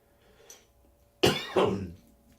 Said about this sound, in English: I've been coughing all day today and yesterday and the day before